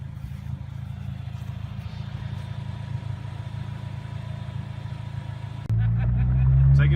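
A modified Pontiac G5 with coilovers idles close by, a steady low engine drone that jumps to a louder, higher rumble near the end.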